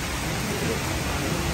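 Heavy rain pours down at a petrol pump, a steady, dense hiss that fills the whole moment without any break or change in strength.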